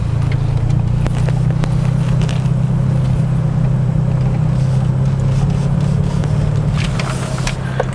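A Mitsubishi Lancer Evo 4 car on a test drive, heard as a steady low engine drone with faint ticks and rattles throughout, fairly loud and continuous.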